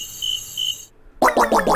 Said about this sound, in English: I keep hearing crickets.